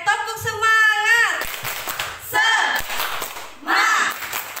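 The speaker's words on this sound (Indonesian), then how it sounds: "sebagai penutup kita tepuk semangat dulu ya" A group of women at a community gathering claps in a short rhythmic cheer pattern, loud bursts of synchronized clapping alternating with chanted voices.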